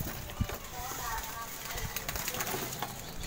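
Local zebra doves (perkutut) coo softly in short repeated calls among a group of birds, with people talking nearby over the cooing.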